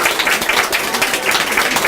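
Loud, dense applause from the crowd at a Korean political candidate's campaign office opening, a continuous wash of many hands clapping close by with no voices on top.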